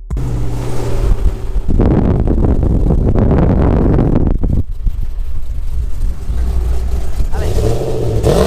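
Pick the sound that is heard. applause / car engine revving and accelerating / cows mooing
car engine revving and accelerating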